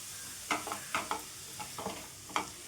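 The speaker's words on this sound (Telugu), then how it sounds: "ఇదైతే ఫ్లేమ్ మీడియంలో ఉంచేసుకొని వేయించుకోండి" Grated bottle gourd for halwa fries in a pan over a medium flame, giving a soft, continuous sizzle as its water cooks off, broken by several brief scraping stirs spaced irregularly.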